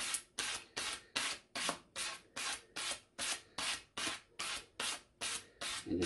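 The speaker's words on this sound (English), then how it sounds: "just keep turning the cue while you're going down with the sandpaper" Sandpaper rubbing over a pool cue tip while the cue is turned, a dry rasping scrape repeated in about fifteen steady, even strokes, close and clear with no talk.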